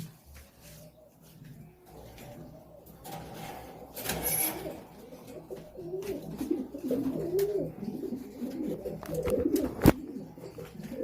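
King pigeons coo in a loft, with soft, repeated throaty calls rising in the middle and continuing under faint rustling and a sharp knock near the end.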